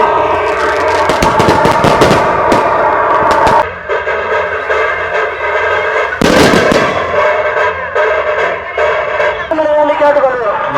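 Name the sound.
fireworks exploding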